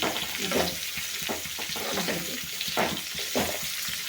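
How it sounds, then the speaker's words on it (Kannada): Whole spices and aromatics being dry roasted in a pan for a vegetable palya: cinnamon, cloves, peppercorns, chana dal, onion, green chili and cumin. A steady close rattle and sizzle runs throughout with repeated stirring scrapes and no talking. "ಚಕ್ಕೆ, ಲವಂಗ, ಮೆಣಸಿನಕಾಳು, ಕಡಲೆಬೇಳೆ, ಈರುಳ್ಳಿ, ಹಸಿಮೆಣಸು ಮತ್ತು ಜೀರಿಗೆ ಹಾಕಬೇಕು. ಇದನ್ನು ಚೆನ್ನಾಗಿ ಡ್ರೈ ಮಾಡಬೇಕು."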